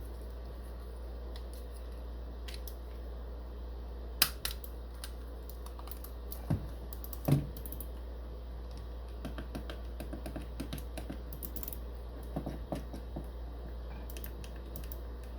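Scattered small plastic clicks from a Cyborg R.A.T. 7 gaming mouse's buttons, some single and some in quick clusters, sound close and quiet over a steady low hum.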